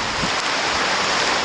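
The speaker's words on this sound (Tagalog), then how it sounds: "Jessica, patuloy pa rin binabayo ang Baguio City at maging na rin ang buong lalawigan ng Benguet ng malalakas na buhos ng ulan" Heavy rain pours down in Baguio City in Benguet during a prolonged storm, making a dense, loud, steady hiss with no break and no voices.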